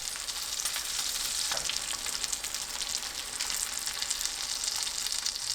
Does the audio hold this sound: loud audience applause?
no